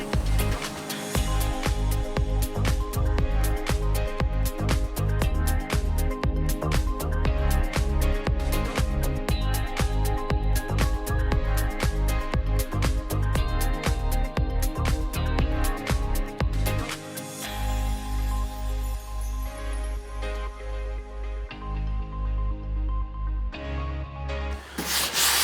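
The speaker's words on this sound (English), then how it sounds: "we've got to just feather those edges back with some 120 grit just before we prime" Rapid rhythmic scraping of 120-grit sandpaper over body filler on a Mazda MX5 (Miata NC) car panel, steady strokes close up, then slower rubbing toward the end with no voices.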